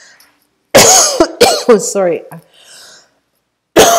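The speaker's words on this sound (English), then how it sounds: "I'm having a dry cough." A person with a dry cough coughs in sharp, harsh bursts. A few coughs come close together, and brief apologetic speech follows them before a final cough after a silence.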